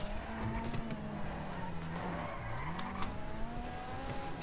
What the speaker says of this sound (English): Ooh, that drift though